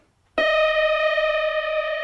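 A synthesizer preset played with reverb: after a brief quiet moment, a single bright sustained tone sounds suddenly and rings steadily with rich harmonics until the end, with no voices.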